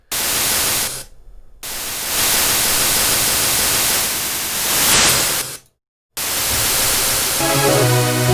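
A synthesizer noise generator plays loud, bright white noise in sustained blasts that are cut by two brief silences, with a filtered sweep in the middle and some tonal layers entering near the end.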